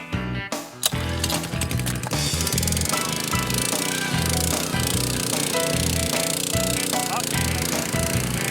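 A gas-powered auger bores post holes into garden soil with an extension fitted, its engine droning steadily and loudly throughout with a dense mechanical rattle, after a brief jolt at the start; a voice speaks once.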